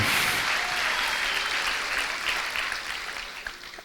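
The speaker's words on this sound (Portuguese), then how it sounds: "Levante um aplauso bem forte e levante o seu grito de júbilo" A church congregation breaks into loud, sustained applause during a worship service, a dense wash of clapping that stays strong throughout and fades only slightly near the end.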